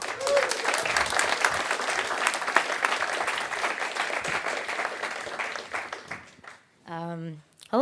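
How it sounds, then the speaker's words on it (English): An audience at a tech conference talk applauds a speaker coming on stage, with dense clapping and some cheering for about six seconds before it fades and a voice starts speaking. "give her the loudest applause you gave today"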